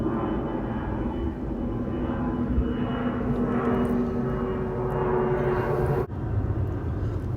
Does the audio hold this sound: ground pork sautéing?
no